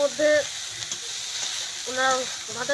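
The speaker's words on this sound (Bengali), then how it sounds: "এবার কষানো হবে ভালো করে।" Pointed gourd shoots fry with spices in a pan, giving a soft steady sizzle while a voice speaks in short bursts over it.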